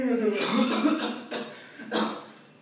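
A mimicry artist voices Pawan Kalyan's cough, delivering a short burst of throaty coughs and a throat-clearing rasp, close and loud against a slight room hum.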